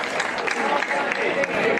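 Festival audience at a tarantella sagra breaks into brief applause, a dense wash of clapping filling the short moment, with voices mixed in.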